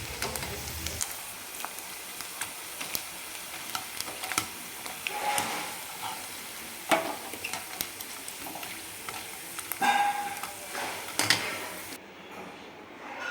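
Sago and potato chakli deep-fry in hot oil, giving a steady, soft, crackling sizzle with scattered pops that continues throughout.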